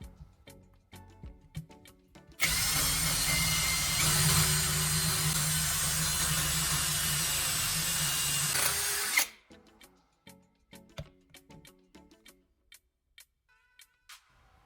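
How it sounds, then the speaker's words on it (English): A cordless drill with a restored old battery bores into wood in one loud, sustained burst of whirring and grinding lasting several seconds, framed before and after by quiet ticking clicks. "The drill starts right up and cuts cleanly into the wood"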